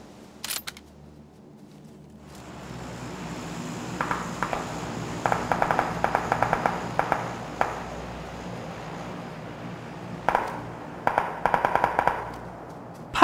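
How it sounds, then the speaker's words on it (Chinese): Sharp gunshots ring out in PUBG, a few isolated cracks early, then repeated bursts of rifle fire in clusters, some loud and close, others more distant, over a steady outdoor ambient hiss with no talking. "右边山上也有人开枪"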